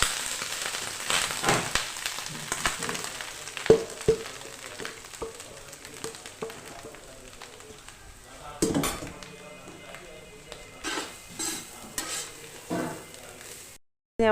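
Grated coconut is fried and stirred in a large pot for a big batch of varutharacha sambar, with a soft continuous sizzle, scraping spoon strokes and metal clinks, occasional talk, ending abruptly.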